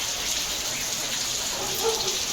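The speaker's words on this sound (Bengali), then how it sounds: "আর কত বৃষ্টি হচ্ছে দেখো" Steady rain falls in a dense, even hiss, close and continuous throughout with no talking.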